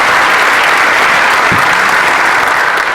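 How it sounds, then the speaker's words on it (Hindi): Steady audience applause fills a seminar hall after a remark in an onstage conversation with a business founder, dense and even throughout with no voices on top. "इस बात पे ताली बनती है।"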